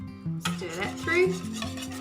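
Milk being stirred into savory carrot muffin batter in a bowl, soft wet scraping and a few utensil clinks against the bowl, close, with a tonal hum underneath and no speech.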